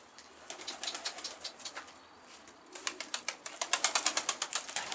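Pigeons taking off and flying, their wings flapping in fast rhythmic bursts, a short flurry first and then a louder, steadier run of wingbeats close by outdoors.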